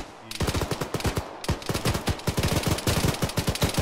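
Suppressing automatic gunfire in modded Arma 3 during a training operation, long rapid bursts of close, loud shots with a brief pause before resuming, sharp evenly spaced cracks dominating the sound.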